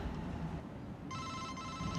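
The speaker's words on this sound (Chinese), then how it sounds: "对不起，我接个电话。" A telephone rings with a sharp electronic tone that starts about halfway through, a fairly quiet, steady trill above low background hum, with no voices.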